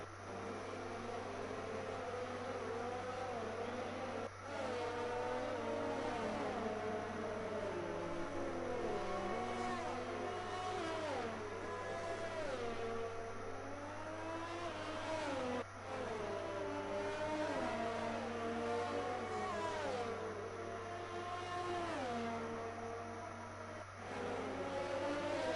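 F1 race cars driving on a track in an F1 video game, high whining engines rising and falling as several cars weave past, continuous and fairly close over a low steady hum.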